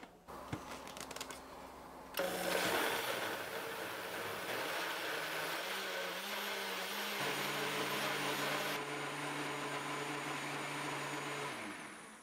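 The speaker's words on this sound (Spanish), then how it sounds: "Y vamos a licuar." Blender whirring steadily as it purées a Peruvian huancaína cheese sauce with ají peppers and salt, a loud continuous motor drone starting after a brief clatter and running nearly twelve seconds.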